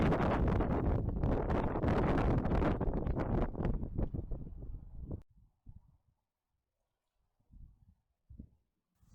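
Strong wind blows across an outdoor fishing lake at a match-fishing venue, roaring into the microphone for about five seconds before dropping away to near silence broken by a few faint bumps.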